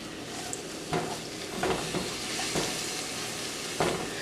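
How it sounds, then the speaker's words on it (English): Tempeh sausage gravy being stirred in a pan as broth is added, a soft steady sizzle broken by several scraping strokes of the utensil against the pan at irregular intervals. "But you're just continuing to stir while you add things"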